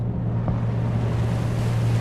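Stormy sea in a container ship simulator game: a steady, loud roar of wind and surging waves with a constant low rumble beneath, continuous throughout with no voices.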